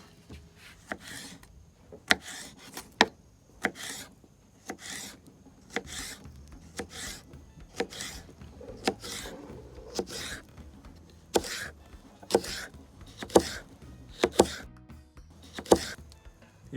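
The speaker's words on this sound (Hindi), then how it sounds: "और अब इसे हम किसी भी शेप में काट सकते हैं, लंबा लंबा, यूं, बिल्कुल बराबर" A knife slicing cactus (nagfani) pads into long, even strips on a board, giving steady repeated rasping cuts in a close, regular rhythm of about one stroke per second, with no talk.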